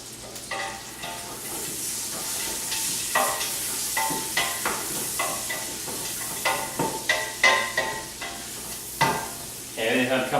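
Onions fry and sizzle in a pan while a spoon stirs them in repeated scraping strokes, close and fairly clear, with no talking.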